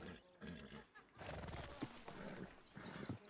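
A horse in Red Dead Redemption 2 clip-clops along and lets out a whinny, hoofbeats clear and close, with other game sounds scattered around it.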